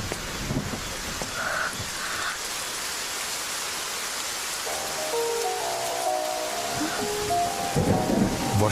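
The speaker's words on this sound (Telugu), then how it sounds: "వర్షం పడింది," Steady rain hisses throughout, with low rumbling like distant thunder. Music comes in during the second half and a few faint voice-like sounds appear.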